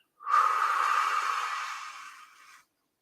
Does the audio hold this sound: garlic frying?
no